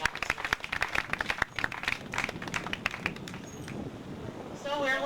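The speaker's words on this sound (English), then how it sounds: "Let's please give a round of applause to all the entrepreneurs one more time," An audience at an entrepreneurs' pitch night in Freetown claps in dense, steady applause for several seconds, with a voice or two over the clapping before it fades.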